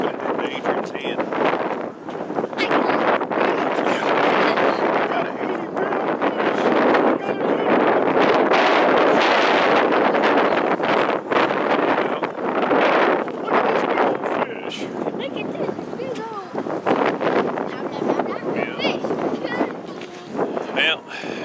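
Strong wind at an icy fishing spot roars and buffets against the microphone in loud, gusting broadband bursts, with faint voices partly buried under the rushing noise.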